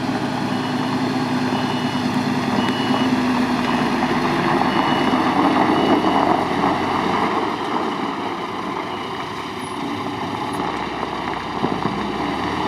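MAN TGS 33.510 truck on a forest road, its engine droning steadily and loudly throughout while reversing, with no distinct beeps standing out.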